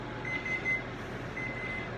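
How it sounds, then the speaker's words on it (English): An electronic kitchen timer beeps in a steady repeating pattern, moderately loud over a faint background hum, with no talking. "Beep, beep, beep, beep."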